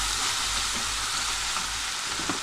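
Green beans fry in a generous amount of oil in a pan, giving a loud, steady, close sizzle that continues without a break, with no talk.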